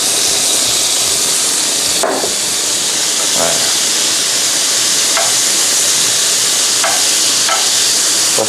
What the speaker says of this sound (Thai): ผมจะย่างให้เขาขึ้นสีสวยๆเลย